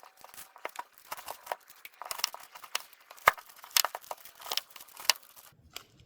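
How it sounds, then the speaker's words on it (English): Raw beef fat being cut into chunks with a knife for rendering into tallow, producing soft irregular crunching and tearing cuts in close, fairly quiet bursts, with no talking. "I'm going to cut this into chunks"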